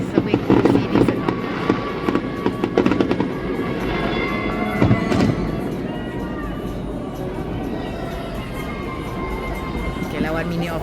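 New Year fireworks crackle and boom continuously at a distance, dense popping bursts under a lively crowd, with people chattering nearby.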